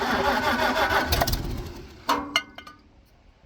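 An old V8 car with a 4-speed gearbox cranks and fires, a rough rumbling start that settles, followed by a couple of sharp close knocks and fading mechanical noise.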